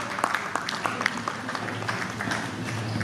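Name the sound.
audience applause at a poetry mushaira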